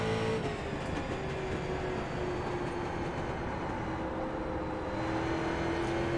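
A rookie street stock race car on throttle in iRacing, lapping USA International Speedway. Its engine drones loud and steady the whole time, with a held tone that shifts slightly as the revs change.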